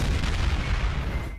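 A booming explosion in an animated story, a dense, heavy rumble of blasts rolling on continuously before fading out at the end, with no voices.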